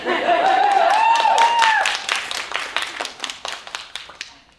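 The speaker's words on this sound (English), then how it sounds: "Thank you very much for clapping" A theatre audience at a community stage performance of The Curious Incident of the Dog in the Night-Time breaks into dense clapping that trails off over a few seconds, with a voice speaking briefly at the start.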